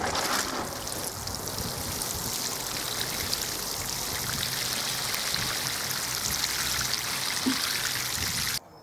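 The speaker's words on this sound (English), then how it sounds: "that'll give the potatoes a bit more feed, and I'll water it in." Water pours steadily from a watering can onto a potato grow bag, a continuous close splashing trickle, loud and unbroken until it stops abruptly at the end.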